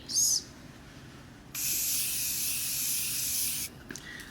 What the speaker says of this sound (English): we're going to spray our face